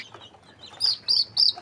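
Young desi chickens feeding on a rooftop under a warming light give soft clucks, followed by three louder, high chirping calls close by.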